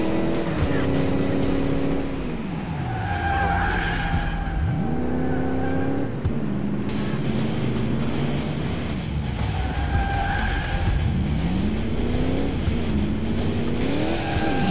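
Engine of a powerful car in the video game Crash Time 2 rises and falls in pitch through repeated revs and gear shifts, loud and continuous, with tires squealing and skidding through the turns.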